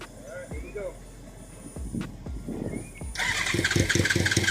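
A Suzuki Katana motorcycle cranks and fires up, a few clunks and starter whirs giving way to a steady rapid idle pulse near the end, with people talking over it.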